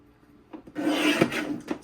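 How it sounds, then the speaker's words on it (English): A paper trimmer blade slices through a printed card in one short, close scraping cut lasting under a second, with a couple of faint taps just before. "let's take our print and trim it at 9 3/4"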